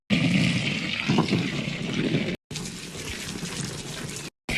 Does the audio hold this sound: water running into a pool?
yes